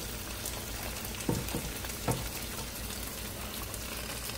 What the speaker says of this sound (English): we're gonna put the cauliflower, let's see how this goes, into the pot, like so